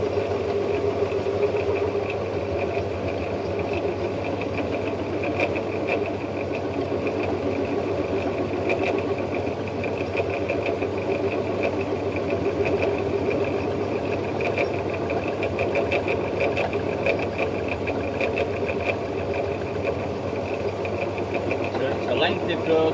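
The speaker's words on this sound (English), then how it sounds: "The lathe tool also cuts coming back on almost a spring cut" A metal lathe cutting a part for a 7¼-inch gauge BR Standard Class 4 4-6-0 tender locomotive, a steady mechanical hum and whine running continuously at an even level throughout, with a voice talking over it.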